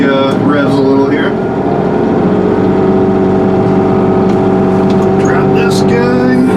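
An excavator engine on a garage foundation site runs loud and steady, revving up slightly while digging trenches, with a continuous drone and a few faint voice-like sounds over it.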